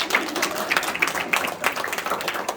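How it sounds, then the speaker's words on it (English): An audience at a national convention claps in a steady, moderately loud patter of many hands, continuous throughout with a faint voice underneath. "I don't know about you, but I always like to clap."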